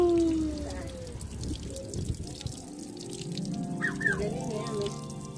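Running water from a tap at a washing area in a large park in Alqassim, Saudi Arabia, a steady trickle and splash close by, with a voice speaking over it.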